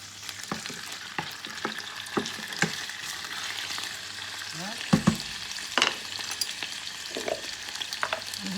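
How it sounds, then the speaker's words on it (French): Cauliflower pieces sear in a hot frying pan for a cauliflower tajine in white sauce, giving a steady close sizzle with scattered pops and crackles and a few louder scrapes as the pieces are stirred and turned. "on va les saisir sur les deux côtés"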